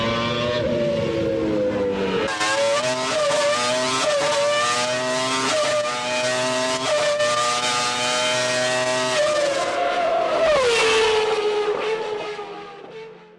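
A 1993 Renault V10 Formula 1 engine screams at high revs, its harmonic tone climbing and dipping through repeated blips before a final surge and fade, loud and close with no voices.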